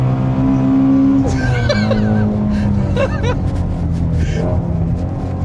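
A Ford Shelby GT350R's engine revs hard on a track, heard loud and close from inside the car, with rising and falling pitch sweeps as it climbs through the revs and shifts.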